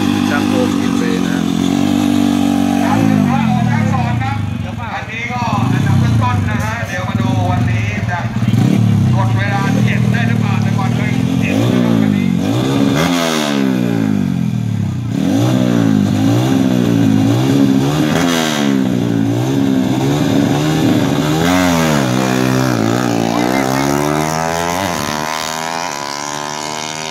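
Horizontal-cylinder 57 stock-stroke motorcycle race, with loud engines revving and sweeping past one after another over a continuous roar, and an announcer talking over it throughout.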